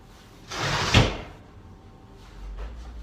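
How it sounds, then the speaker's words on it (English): A door is pushed shut indoors with a soft sweep and a dull thud near the middle, followed by quiet room noise and a faint rumble. "I'm gonna close the door because it's kind of loud."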